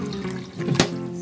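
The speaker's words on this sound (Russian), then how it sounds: "Наливаем сюда воды." Water pours into a silicone funnel in one short splash that peaks briefly near the end, close and fairly quiet, with no voices.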